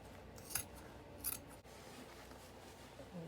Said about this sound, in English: Cut it from here.